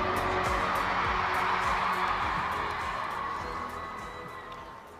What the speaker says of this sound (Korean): 네, 여러분 큰 박수로